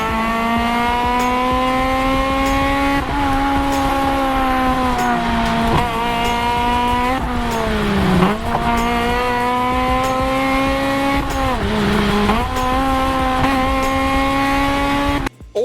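A Honda Civic FD2 revs hard through a sustained engine whine that climbs and dips with throttle changes as it slides out, with tyre noise mixed under the loud, continuous engine note.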